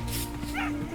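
Yipping, whimpering dog barks from a TV show play over a steady background hum, a short run of excited canine yelps lasting about a second.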